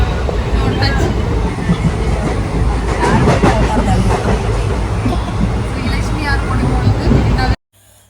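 Steady rumbling train noise with rolling clatter at Agra railway station, loud and continuous, with people talking over it until it cuts off near the end.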